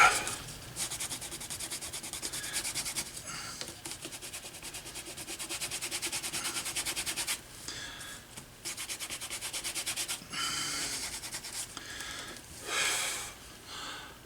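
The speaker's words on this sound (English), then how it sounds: "grab a piece of canvas. And really try to burnish it in good." Canvas rubbed firmly over a leather bifold wallet, giving steady, close scratchy strokes in long continuous runs with brief pauses between passes, no talking.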